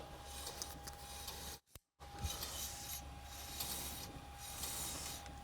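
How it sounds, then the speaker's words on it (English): A rough, worn treadmill roller spinning freely with its belt disconnected from the drive motor gives a steady, close grinding and rasping rumble with a faint tonal whine; a brief break interrupts it before it carries on, and no one speaks. "There's a lot of mechanical noise coming from the roller."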